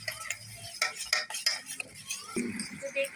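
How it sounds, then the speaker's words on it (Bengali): Aloe vera gel being stirred into a homemade soap mixture in a bowl: a spoon scrapes and clinks against the sides in quick, uneven strokes, close and fairly loud. "দিয়ে এটা আবার ভালো করে মিক্স করে নেবো।"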